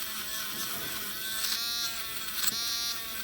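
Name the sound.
wire wheel on a rotary tool polishing a Corgi Juniors VW hotrod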